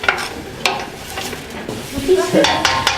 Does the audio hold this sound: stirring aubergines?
yes